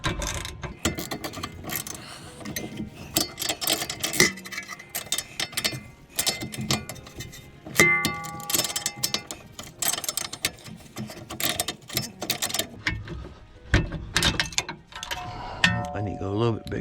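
A ratchet clicks in quick bursts while undoing a rusty rear strut nut on a 2009 Honda Accord, close and fairly loud, with a person talking between the turns.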